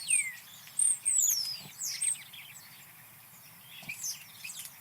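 Several birds singing and chirping in bursts over faint low background hum, calls bright and fairly close, with a quieter pause midway before more song resumes.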